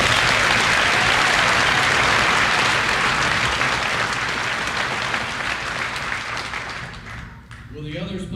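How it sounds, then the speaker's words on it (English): A graduation ceremony audience gives a loud, full round of applause for graduates who have already reported for military duty, sustained dense clapping that gradually fades, with a voice beginning to speak at the very end. "Let's give them a round of applause."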